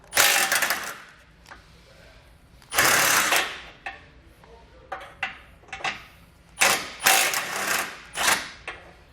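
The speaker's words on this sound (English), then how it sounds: "we're going to grab a 14mm socket, and we're going to pull all 4 of those out" Ratchet with a 14mm socket loosening the four nuts that hold a bumper beam to the frame of a 2019 vehicle during a base plate install, heard as bursts of clicking and clattering metal with pauses between them.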